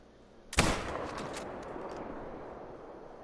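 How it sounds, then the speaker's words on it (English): A single sharp .270 rifle shot fired at a whitetail buck nearly 300 yards out, cracking loudly and then rolling away in a long echoing boom across open ground. "These guys should not hear the gunshot, or they may go alert."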